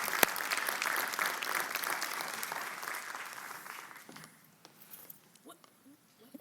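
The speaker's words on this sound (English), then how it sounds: "So can we give them like a resounding round of applause?" A graduation audience applauds loudly in a sustained burst, the clapping thinning and fading to scattered claps after a few seconds, with faint background murmur.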